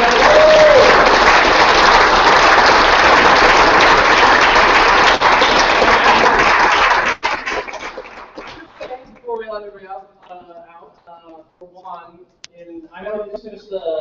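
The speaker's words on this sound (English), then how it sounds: "Let's round of applause" Loud, steady applause from a crowd fills the first half, then cuts off abruptly as a person starts talking.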